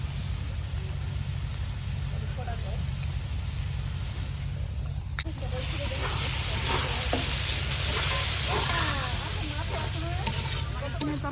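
Shrimp and potatoes sizzle in a pan as chili and spices are added, a steady frying crackle that turns louder and busier partway through with stirring and popping over a low background hum.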